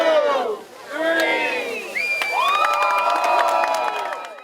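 A high school crowd erupts in loud cheering, whoops and shouted voices as a student team unveils its electric vehicle, the overlapping yells sustained for several seconds.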